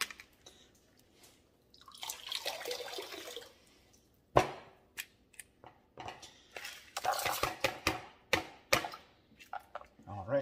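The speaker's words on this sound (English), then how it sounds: "I'll get the water all dumped out" Water is tipped out of a rock tumbler barrel holding tiger eye, petrified wood and grit media, heard as sloshing pours with sharp clunks and rattles as the barrel is handled, close by and loud.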